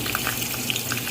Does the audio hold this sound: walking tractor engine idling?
no